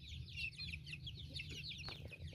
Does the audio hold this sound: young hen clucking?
yes